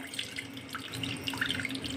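Water is poured off washed lentils into a sink, a soft continuous splashing and trickling stream with small drips, close and fairly quiet, no talking.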